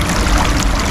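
Strong stream current rushing close by, a loud continuous wash of flowing water.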